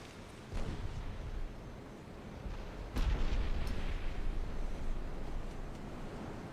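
Booming naval gunfire from warships in a video game, a couple of deep, rumbling blasts rolling out over a steady low wash of sea and wind, heard alone without talk.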